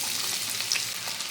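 Onion hits hot coconut oil with a steady close-up sizzle and faint crackling, a brief brighter spitting burst midway, no voices.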